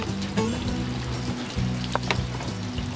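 Steady rain falls outdoors, a continuous patter that holds through the whole stretch with some harmonic engine-like hum beneath it, no talking.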